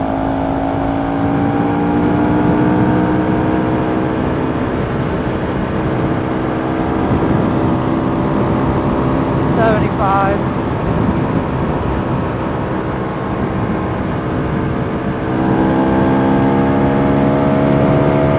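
A Honda CRF 450 RL dirt bike runs near top speed on a highway, its engine holding a loud, sustained drone with steady harmonics and heavy wind rush throughout, slight pitch variation, and a faint brief chirp midway.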